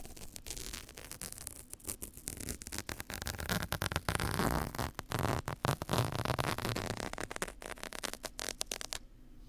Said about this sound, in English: You can actually rip them near the ear and they sound like this.